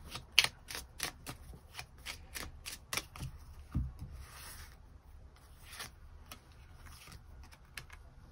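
Tarot cards being shuffled and drawn close up, a quick series of soft riffling flicks and slaps followed by quieter sliding and rubbing of cards on a surface, with no speech.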